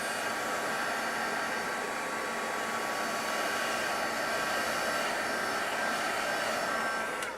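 Handheld heat dryer blowing steadily on a paper tag coated with Pentart crackle medium, a constant close, loud whooshing whine for the full stretch.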